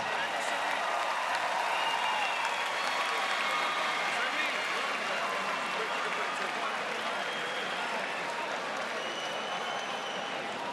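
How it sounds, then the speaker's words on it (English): Crowd applause after a heavyweight boxing fight, a dense, steady roar of clapping and cheering that holds for the whole stretch with voices mixed into the arena noise. "Let's give them both a round of applause."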